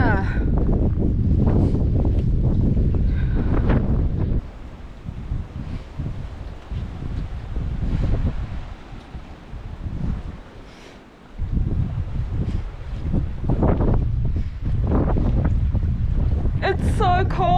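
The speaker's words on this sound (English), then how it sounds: "it is so windy" Strong wind buffets the microphone with loud, rumbling gusts that rise and ease, with rushing water in the background and no talking, atop a waterfall on the Naukluft Trail in Namibia.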